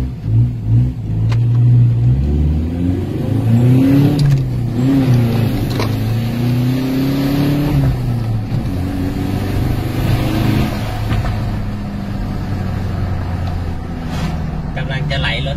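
Turbocharged Ford 2.2 pickup, fitted with a variable-geometry turbo, intercooler kit and stainless piping, accelerating hard on a road speed run, its engine note rising and falling steadily up close, with voices talking over it throughout.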